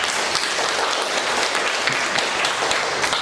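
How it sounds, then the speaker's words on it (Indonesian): An audience at a workshop on cybersecurity in teaching applauds in a steady, dense patter of many hands, fairly close and loud, lasting a few seconds with no talk over it. "Sekali lagi tepuk tangan dulu."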